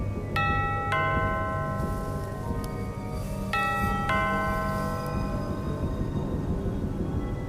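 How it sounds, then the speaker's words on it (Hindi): A doorbell chimes twice in a ding-dong pattern, used as a horror-story sound effect, each ring's tones decaying over a low dark ambient drone with no talk. "साथ ही कानों में डोरबेल की आवाज़"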